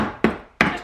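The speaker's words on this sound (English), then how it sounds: "And then just take your hammer, I balance it on the table because it's a little bit more secure" A hammer gently taps the base of a wooden bird box balanced on a table, giving two distinct, sharp knocks with a short pause between them.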